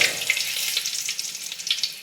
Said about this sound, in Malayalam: വറ്റൽമുളക് ഇട്ട് കൊടുക്കുക.